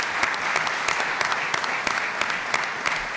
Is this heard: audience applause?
yes